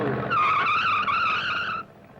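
Car tires skid and squeal on a test road, a loud, sustained screech lasting under two seconds before cutting off abruptly, heard alone.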